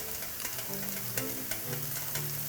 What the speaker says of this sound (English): So these onions have turned light brown, and I'm going to be adding some garlic.